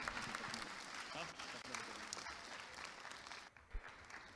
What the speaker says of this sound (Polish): Brawa ogromne.